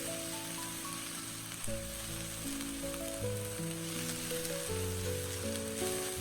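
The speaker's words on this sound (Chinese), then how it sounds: "然后下入准备好的白玉菇，再次翻炒均匀，把白玉菇炒干水分" Lean pork and white beech mushrooms stir-fried in a wok give a steady crackling sizzle, continuous and moderately close, with music playing underneath.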